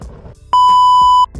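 A shooting timer gives a single loud, steady electronic beep of about three quarters of a second, heard on its own at an outdoor range before a draw with a Canik SC Elite pistol.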